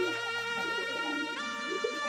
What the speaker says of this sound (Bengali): এটা কিন্তু সিরাজি কবুতর।